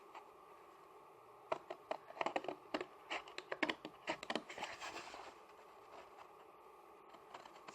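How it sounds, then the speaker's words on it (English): Quick, irregular snips and crisp paper rustles come in a close, quiet burst, like scissors cutting through a sheet. "I'm just going to use the scissors here."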